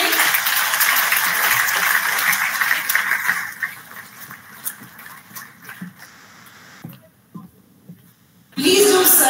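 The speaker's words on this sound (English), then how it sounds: "please make sure you give him a huge round of applause to" Conference audience at an international computing sciences event applauds to welcome a keynote speaker, a dense broadband clapping wash for about four seconds that thins and tapers into scattered claps, then a loud burst of other sound at the end.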